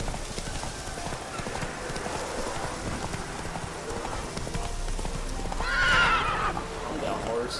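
Horse in The Witcher video game whinnying loudly near the end over steady clip-clopping hooves throughout, with game ambience underneath.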